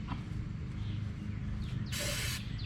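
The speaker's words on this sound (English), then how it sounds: "Spray down our frame too, just to get that sludge off of there." Cleaner sprays onto the sludge-covered frame of an old Farmall tractor: one short, loud hissing burst from a spray bottle, close up, set against quiet background rumble.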